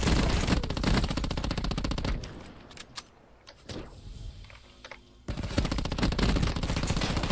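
Rapid automatic gunfire in a video game duel, fired through a wall: dense bursts at the start and end, with a quieter gap in the middle holding a few isolated shots and clicks.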